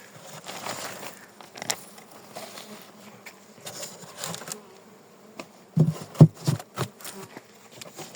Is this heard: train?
no